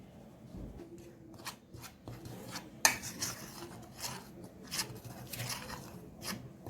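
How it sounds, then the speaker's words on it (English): Dry eggless chocolate cake ingredients and chocolate powder are shaken through a sieve, making soft, close rasping and rubbing strokes with a few light taps against the rim, quiet and without talk. "Then gradually we'll add our chocolate powder to it. And keep on sieving."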